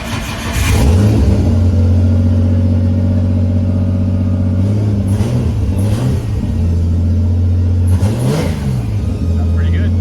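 A Nissan 240sx engine cranks and catches, then idles loudly close by and revs sharply three times before settling back to a steady idle, with a voice briefly heard over it.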